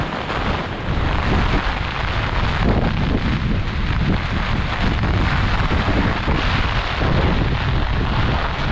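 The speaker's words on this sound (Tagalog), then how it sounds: "So, oh, sobrang hangin dito." Strong typhoon wind under a Signal No. 3 storm, out in the fields near a swollen river, roars steadily and loudly, buffeting the microphone without a break.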